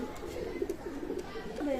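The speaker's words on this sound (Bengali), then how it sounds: "চমৎকার টেডি কবুতর মাশাল্লাহ" A teddy pigeon at a loft coos in soft, low rolling pulses, close by, mixed with nearby talking throughout the brief moment.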